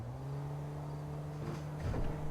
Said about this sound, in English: The other thing I want you to listen to is the engine noise.